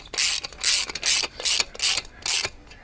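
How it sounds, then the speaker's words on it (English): Five rhythmic bursts of clicking, ratcheting sound, evenly spaced and close, from a tool tightening a flare fitting on a MrCool mini-split heat pump line set. "Might need an impact wrench to get that to work, because I need to be able to tighten it."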